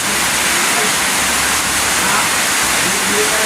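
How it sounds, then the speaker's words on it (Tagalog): Heavy rain falling outdoors, a steady, loud broadband wash of water that fills the whole stretch without a break. "At ngayon malakas ang ulan sa labas."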